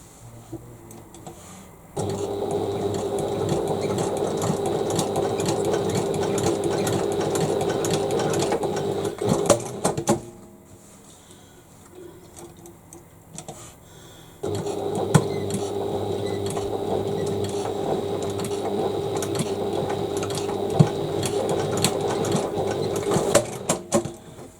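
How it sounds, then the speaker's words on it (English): A sewing machine stitching a handbag runs in a steady, rapid mechanical whir, close and loud, stops for a few seconds partway through, then starts again and runs on. "I'm just going to stitch across just to catch those stitches in to stop them coming out"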